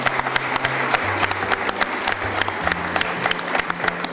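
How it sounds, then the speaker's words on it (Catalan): A studio audience claps for young contestants on a children's cooking show, a steady patter of applause with distinct individual claps, moderately loud, over a low background hum. "jo faré un aplaudiment pels concursants"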